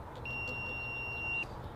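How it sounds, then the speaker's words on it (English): A handheld electrical tester used while wiring a combination switch and receptacle gives one steady, continuous alarm beep of a little over a second, heard alone over a low room hum. "this one has an audible alarm and a red light that goes off"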